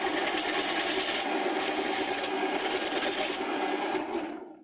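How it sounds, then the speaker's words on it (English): A 9.5mm drill bit boring into scrap metal, giving a steady, dense whirring grind with a high metallic edge, continuous and fairly close, fading out at the end; no voices. "I must say that this is drilling easier than I thought it would be."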